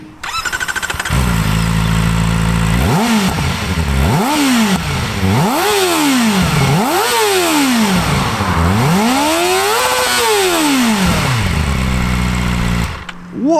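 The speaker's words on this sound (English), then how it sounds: "I guess that's the whole idea with a little Revvy inline four like this." A 2024 Kawasaki ZX-4RR with a small inline-four engine idles, then revs sharply about five times in rising and falling sweeps, loud and close, before settling back to idle.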